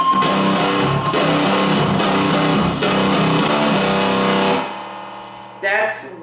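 A metal guitar run through an amp with every knob turned all the way up plays loud, heavily distorted chugging chords in short bursts, then cuts out, leaving a buzzing hum and a brief noisy squeal.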